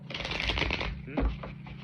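Tarot cards riffle and flutter in a quick shuffle, a soft papery burst followed by a second shorter one, with a faint voice underneath.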